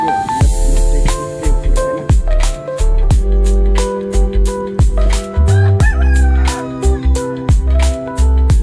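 A rooster crows in Kathmandu, Nepal, repeating its call over roughly eight seconds. It is fairly loud and close, with a steady tonal background and no speech.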